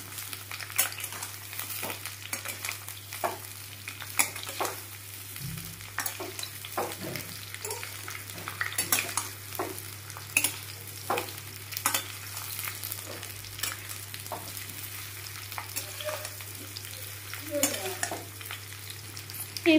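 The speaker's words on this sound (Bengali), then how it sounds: "এইভাবে বারে বারে নাড়তে থাকতে হবে" Mango pickle sizzles and spits steadily as it fries in a pan, with the soft scrape of repeated stirring running throughout at a close, even level and no talking.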